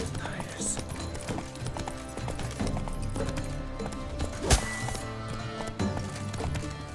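Horse hooves clip-clopping in The Witcher 3 video game, a steady rhythmic trot under continuous game music and ambience, moderately loud, with one sharp hit partway through.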